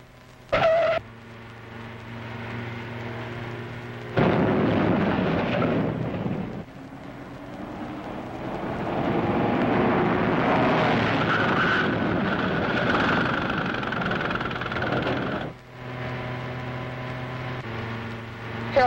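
A 1941 car driven too fast, its engine running steadily with a broad rumble that swells and recedes, alone without any voices.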